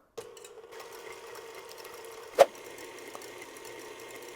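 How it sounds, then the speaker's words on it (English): An electric mixer whips egg whites on medium-low speed for angel food cake, a steady close motor hum with a single sharp click partway through. "We're going to turn this on medium-low speed just until the eggs become a bit frothy"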